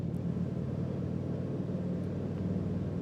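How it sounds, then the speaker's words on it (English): Harley-Davidson motorcycle engine rumbling steadily while riding through woods, a low continuous drone heard from the rider's position, fairly quiet and even throughout with no voices. "You can hear the Harley sound in the background there."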